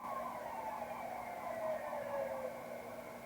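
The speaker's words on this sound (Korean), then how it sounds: "방금 앰뷸런스 소리 들으셨나요?" A faint, wailing ambulance siren drifts by in the distance, its pitch gradually sliding downward as it passes, with no talking over it.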